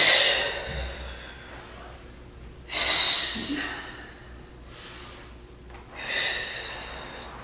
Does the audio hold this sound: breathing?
yes